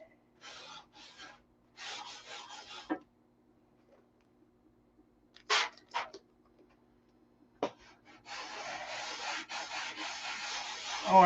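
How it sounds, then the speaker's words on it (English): Fine sandpaper rubs a plastic P-47 model canopy in short dry bursts, pausing between strokes, then a longer steady stretch of scratchy sanding close by with no talking. "That's when you stop sanding."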